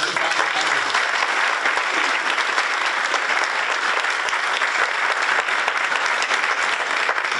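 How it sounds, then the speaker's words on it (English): A ceremony audience applauds at a state public service recognition event for long-serving honorees, a steady, dense wash of clapping from a large crowd that holds evenly throughout. "How about a nice round of applause?"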